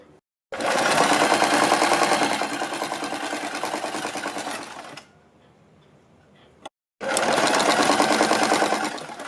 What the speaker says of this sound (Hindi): इस तरह से मोड़ते जाएंगे और सिलाई लगाते जाएंगे।